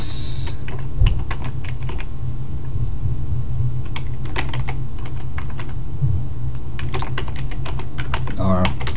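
Fingers tap a computer keyboard in a quick, irregular run of close, crisp keystrokes over a steady fan-like hum, with a short burst of faster clicks near the end.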